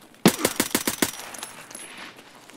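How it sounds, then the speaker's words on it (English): Submachine gun fire in Escape from Tarkov, chambered in 9x21: a loud, close burst of about seven rapid shots, then a fading reverberant tail with no talk. "He's running 9x21, so he's running a fucking SMG."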